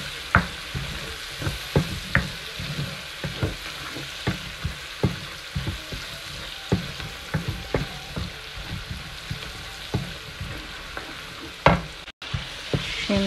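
Spices frying in a pan, a low steady sizzle broken by frequent sharp pops and crackles at irregular intervals, close by, with a louder burst toward the end.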